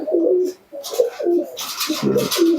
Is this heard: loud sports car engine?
no